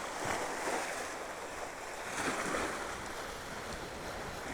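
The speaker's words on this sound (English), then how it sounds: "There's quite a bit of wind where I am up here, so hopefully that's not coming through on the audio" Wind gusts and washing waves sound along a rocky mangrove shoreline in a steady, fairly faint rush of broadband noise with no voices.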